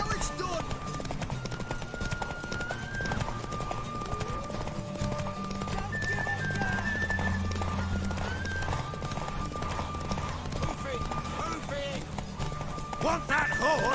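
In The Witcher 3: Wild Hunt, a horse's hooves clop steadily and it whinnies, set under game music and spoken dialogue that runs throughout.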